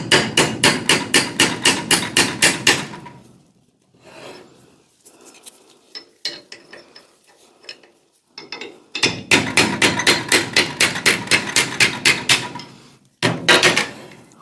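Rapid, sharp metallic hammer blows on a bolt used as a punch against a metal vise, struck in two long, rhythmic bursts with quieter scraping and handling in between, then a short final burst.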